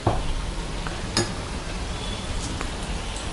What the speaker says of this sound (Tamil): டீப் ஃப்ரை பண்ணிகிட்ருக்கேன்.